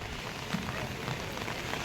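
Rain falls at a Ganga ghat in Haridwar, a soft continuous patter with a few closer drops standing out against the quiet, fairly faint wash.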